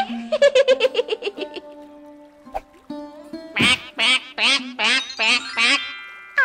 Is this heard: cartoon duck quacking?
yes